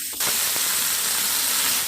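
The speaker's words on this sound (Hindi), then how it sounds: "चिकन को अच्छे तरीके से हम फ्राई कर लेते हैं।" Chicken dropped into hot oil bursts into a loud, close sizzle that jumps up suddenly, then holds as a dense, steady frying hiss with a few small pops.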